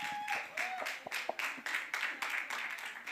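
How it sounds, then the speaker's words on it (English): An audience at a workshop gathering applauds, uneven bursts of hand clapping that swell and dip over a few seconds, with some voices and cheering mixed in. "Let's give these giants a round of applause."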